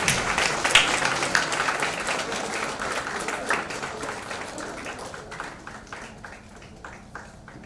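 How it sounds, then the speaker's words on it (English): Applause at a state-level student conference for the best paper presenter, many hands clapping at once, then gradually tapering into scattered claps as it dies away. "Let's give a great round of applause."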